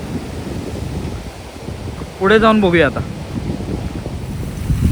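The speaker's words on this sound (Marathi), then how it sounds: "समुद्र आता खवळलेला आहे कारण पावसाचे दिवस आहेत" Rough monsoon sea surges against a rocky shoreline in a continuous, windy roar of surf, while someone speaks briefly midway through.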